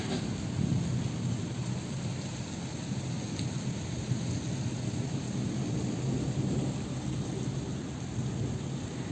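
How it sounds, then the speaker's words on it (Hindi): Thunder rumbles low and continuous through steady heavy rain outdoors, a dense wash of rainfall with deep rolling booms underneath and no voices. "बादल गरजने का आवाज भी आप सुन सकते हो।"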